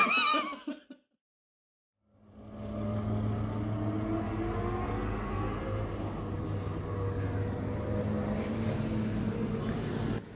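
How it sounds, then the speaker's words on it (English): Distant motorcycles on a GP race track make a steady droning engine whine with shifting pitch that rises after a short silence and carries on continuously, faint and far away. "sounds like a motorcycle race going on, or some kind of motorcycle related event on the GP track"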